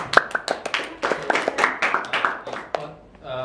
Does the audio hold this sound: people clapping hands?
yes